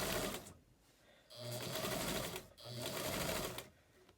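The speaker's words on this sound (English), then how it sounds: "I'm going to sew my 1/4 inch seam all along to join my two pieces together" A sewing machine stitches a 1/4 inch seam joining two quilt-as-you-go pieces, running in two steady bursts with short pauses between them, close and fairly quiet.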